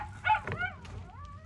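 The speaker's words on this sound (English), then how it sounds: "It's my dog's barking." A dog gives a few short barks and whimpering yips nearby in a quiet indoor room, the sounds coming one after another.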